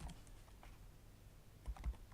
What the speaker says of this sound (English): here we can start typing the name of a respondent